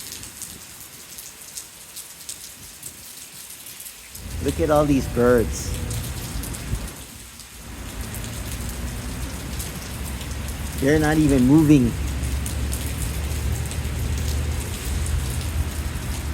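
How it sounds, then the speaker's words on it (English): Heavy rain pouring during a major storm in Honolulu, Oahu, a steady hiss of rain on surfaces running throughout at moderate level, with someone speaking over it twice. "It's been pouring rain,"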